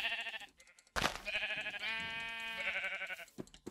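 Minecraft sheep bleats ring out one after another, clear and close, with a long wavering bleat in the middle and no talking.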